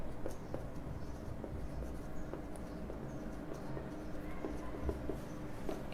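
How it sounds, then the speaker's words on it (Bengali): Math being written on a board in a physics lesson on electrostatics, heard as faint repeated tapping and scratching strokes over a loud, steady low rumble of room noise, with no talking. "হ্যাঁ, এই সাইডে লিখি ম্যাথ।"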